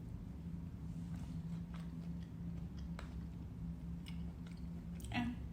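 Close, quiet chewing of McDonald's food bought in Dubai, soft moist bites and mouth clicks at an irregular pace over a low background hum, with a sharper crunch near the end.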